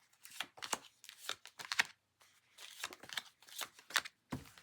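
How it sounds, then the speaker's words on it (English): A small-size tarot card deck is shuffled close up, giving a series of quiet, crisp riffling bursts with short pauses between them and no talking. "Second deck, the mini, the smaller size, which I like shuffling the smaller size deck"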